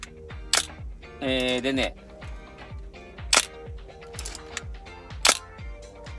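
Camera shutter firing at 1/2000 second, several sharp close clicks spaced across the clip, with someone talking in Japanese between them.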